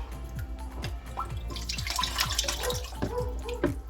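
Water drips steadily into orchid bark during watering, a quick run of distinct close drops in a regular rhythm over a low background hum.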